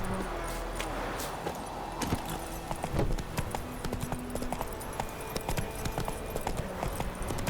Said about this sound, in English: Where are you, horse? There you are.